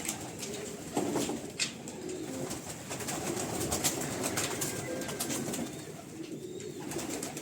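Young pigeons coo softly and repeatedly in a loft, a low, murmuring chorus with fluttering and rustling close by and no talk.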